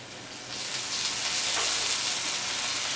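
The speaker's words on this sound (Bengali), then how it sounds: "দিচ্ছি পেঁয়াজ কুচি ভালো মতো ভেজে নেবো" Chopped onions fry in hot oil in a pan, a steady close sizzling hiss that swells after a quieter start and then holds evenly, with no voices.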